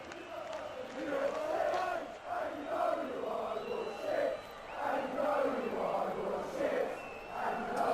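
A wrestling house show crowd chants in a steady rhythmic pattern, many voices swelling and falling together in a hall, loud and continuous, with a commentator's voice faintly under it.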